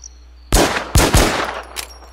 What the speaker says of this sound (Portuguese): deu um monte de tiro aqui, agora eu não acertei